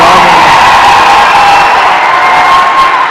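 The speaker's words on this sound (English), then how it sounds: "this is a hell of a crowd too" Large campaign rally crowd in Juneau, Wisconsin, cheering and whooping in a steady, loud roar that fills the whole stretch without a break.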